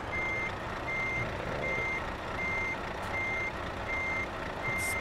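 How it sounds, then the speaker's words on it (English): Reversing alarm of a truck in the driving game Euro Truck Simulator 2, a steady run of evenly spaced beeps repeating over a continuous engine hum, with no talking. "And we'll put it in reverse. I love the sound."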